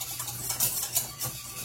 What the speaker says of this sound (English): Keep stirring it and it'll get smoother and smoother.